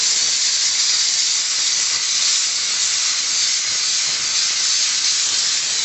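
A Dupray NEAT vapor steamer sprays bathroom grout lines with a loud, steady, close hiss of steam that continues without a break.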